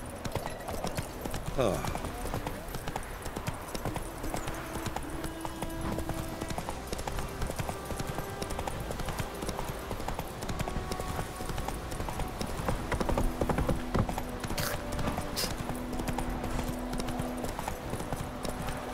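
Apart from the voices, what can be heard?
horse Roach trotting, from video game The Witcher 3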